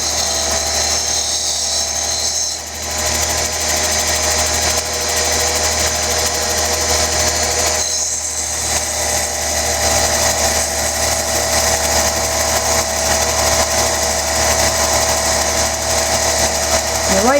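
A lapidary grinding wheel of 4-inch diameter shapes the concave curve of a flame-tip stone, giving a steady, loud whirring grind that runs continuously throughout with slight dips in pressure.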